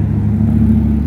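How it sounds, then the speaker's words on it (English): Loud car passing on a street in Gatlinburg, a deep steady engine rumble and whir, close and loud, no voices. "People with loud cars."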